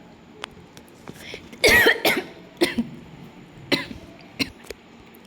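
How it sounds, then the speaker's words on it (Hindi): A woman coughs in a sudden cluster of harsh, close coughs with a throat-clearing rasp, then a few lighter follow-up coughs fade out, with no talking. "मुझे थोड़ी सी खांसी आ गई थी"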